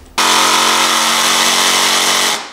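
A power jigsaw cuts a hole for an outdoor shower in the side of a van build, starting abruptly into one loud, steady, buzzing run up close before stopping.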